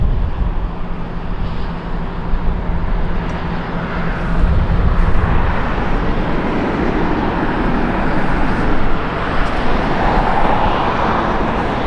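A Delta airliner takes off from LAX, a loud, broad jet roar that swells and holds steady throughout, blending with surrounding airport and road noise.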